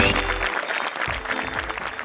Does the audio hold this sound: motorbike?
no